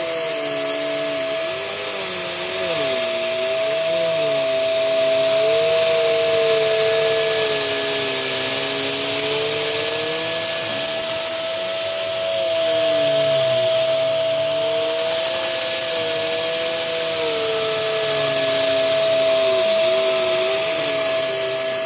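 A Tesco own-brand vacuum cleaner runs loud and steady while sucking up hair in a mess test, its motor drone wavering and sounding a little rough as the hair is pulled toward the bin.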